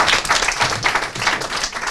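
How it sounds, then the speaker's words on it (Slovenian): An audience at an improv comedy show claps encouragingly, producing close, lively applause with distinct individual claps in an uneven rhythm over two seconds. "spodbudni aplavz"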